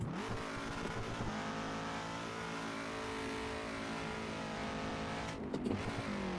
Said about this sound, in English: is this just like an engine sound from another car